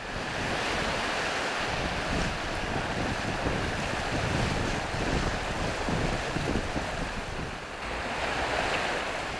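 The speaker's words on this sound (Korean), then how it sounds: "유난히 파도가 거칠고 지형이 험한 지기도." Heavy waves pounding a rugged island coastline while gusty wind blows across the microphone, a loud continuous roar of surf with slight dips and swells over nearly ten seconds.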